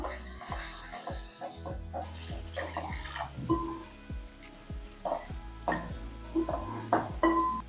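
Water splashes and pours in short bursts into a pan of Madras fish curry, with clinks and knocks of cookware throughout, fairly close and moderately loud.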